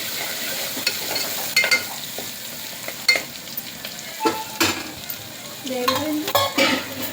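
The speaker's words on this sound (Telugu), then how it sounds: "కొద్దిగా అల్లం వెల్లుల్లి పేస్ట్ వేసుకొని కలుపుకోవాలి" Spoon stirring ginger garlic paste into lentils in a frying pan, heard as close scraping and stirring strokes over a soft, steady sizzle, with several louder scrapes against the pan and no talking.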